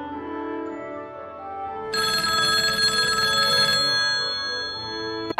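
A telephone rings on and on, unanswered, with its ring growing louder and brighter partway through, in a Minecraft shop-decorating game with no one speaking.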